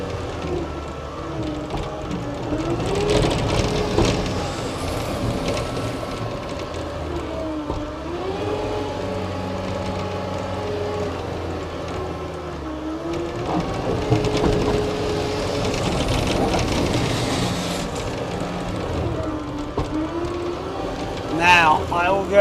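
A 2016 Caterpillar 232D skid steer loader idling and revving on its foot throttle, with a steady diesel engine drone rising and falling in pitch, close by, with some hydraulic whine and a voice talking over it.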